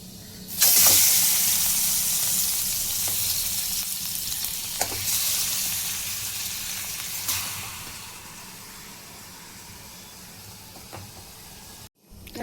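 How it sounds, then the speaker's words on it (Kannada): Chicken cooking in a spoonful of ghee in a pan for ghee roast: a continuous close sizzle and hiss with occasional stirring clicks, loudest early and slowly easing, with a short dropout near the end. "ಇದಕ್ಕೆ 1 ಟೀ ಸ್ಪೂನ್ ಅಷ್ಟು ತುಪ್ಪ ಹಾಕಿ ಚಿಕನನ್ನು ಇದರಲ್ಲೀಗ ಬೇಯಿಸುವ"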